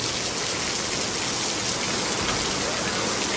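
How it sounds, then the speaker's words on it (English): Heavy rain from Tropical Storm Claudette pouring down at an RV campground, a dense, steady hiss of drops on surfaces, loud and unbroken with no voices. "It's been raining on and off, pretty heavy all day. A lot of wind and rain."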